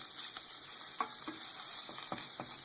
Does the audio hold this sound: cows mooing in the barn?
no